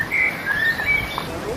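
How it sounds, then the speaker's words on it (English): Birds chirp and whistle in a garden on the side of a hill, a few thin bright calls rising over a soft outdoor background, fairly near and clear. "At least the birds sound happy."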